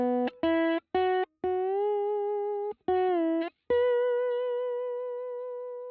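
Clean slide guitar played straight through a 1966 Fender Super Reverb amp with no effects, a run of short plucked notes sliding in pitch, then longer sustained tones that ring out and slowly fade, close and clear with no voices.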